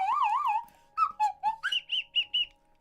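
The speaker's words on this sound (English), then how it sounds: "joined as always by the Slide Whistle." A slide whistle glides in a wavering sweep, then toots a quick series of short bouncy pitched notes, close and fairly loud against silence.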